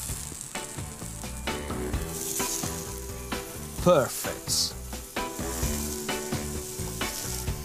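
Carrots with salt sizzle loudly in olive oil on a hot griddle pan. The crackle is steady and close, with clattering as they are stirred and turned, and one brief spoken word.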